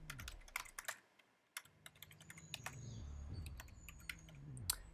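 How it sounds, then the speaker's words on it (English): Rapid typing on a computer keyboard during a Software Inc. game session, irregular bursts of key clicks close to the mic, steady through the clip with a low hum beneath. "So what I'm doing is I'm typing out the words"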